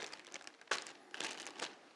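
A plastic bag crinkles softly as cut tomatoes are dropped into it in a kitchen, giving quiet rustles and a few sharper crackles.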